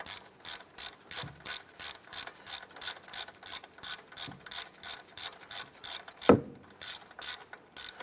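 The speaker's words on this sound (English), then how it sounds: "Let's go ahead and snug down that bolt." A ratchet tightens a bolt on a Cadillac Escalade during upper control arm work, producing a steady, even train of close, crisp clicking strokes with one louder metallic knock near the end.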